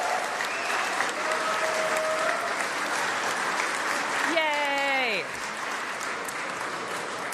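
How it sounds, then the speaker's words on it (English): Sustained audience applause at a video game awards show following a musical ensemble's performance, a thick continuous roar of clapping, with a brief synth-like tonal swoop partway through. "another round of applause for our exceptionally talented musical guests"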